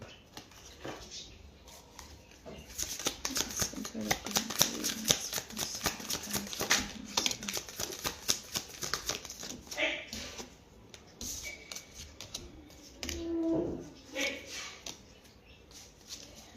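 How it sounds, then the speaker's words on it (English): Tarot cards being shuffled, a dense run of quick riffling flicks and slaps close by, followed by scattered taps and card handling with a brief voice-like sound near the end. "Let me just pull up a few tarot cards as well."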